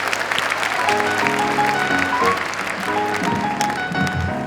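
An audience applauds at a stage performance, the clapping a dense steady wash with sustained musical tones running underneath throughout.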